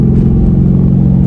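A project car's engine stalls in manual mode while in second gear, a loud steady low rumble throughout with no clear cutoff.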